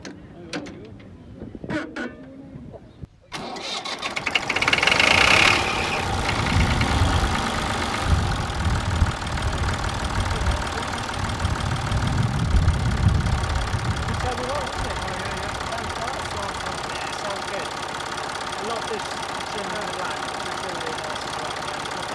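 A vintage Massey Ferguson 35X tractor engine cranks and catches, then settles into a loud, steady rumbling idle up close that runs throughout, with some voices early on.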